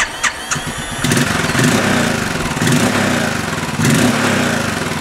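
A Royal Enfield Continental GT's single-cylinder engine is started after a few clicks, catching within a second and settling into a loud, close, pulsing thump with small throttle surges.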